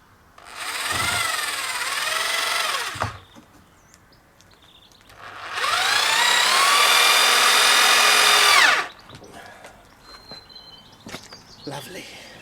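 A power drill drives screws into a shiplap wood privacy screen panel in two sustained whirring bursts, each rising in pitch as it spins, separated by quiet pauses with faint ambient sounds and light handling noise afterward.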